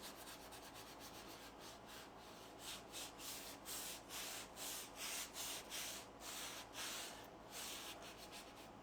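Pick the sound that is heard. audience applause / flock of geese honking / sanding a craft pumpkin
sanding a craft pumpkin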